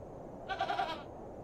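A goat bleats once in The Excavation of Hobs Barrow video game, a single short, wavering, close cry about half a second long over quiet background.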